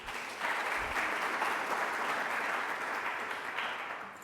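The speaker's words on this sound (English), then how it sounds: "don't clap for me because I don't really do anything" Audience applause at a city's State of the City address after news of a new grandson, a steady dense clapping that fills the room for about four seconds and tapers slightly at the end.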